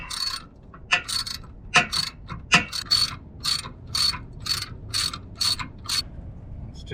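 Ratchet wrench tightening a bolt on a broken RV leaf spring, with rapid clicking bursts in a regular rhythm of about a dozen pulls, close and fairly loud over low background rumble.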